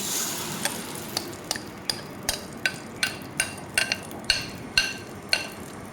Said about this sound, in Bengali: তেলটা গরম হলে আমি দিয়ে দিব ডালের মিশ্রণটা